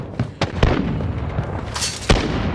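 Sharp blasts and crackling bursts ring out in Call of Duty Modern Warfare, with several close pops and a bigger explosion near the end, over continuous battle noise.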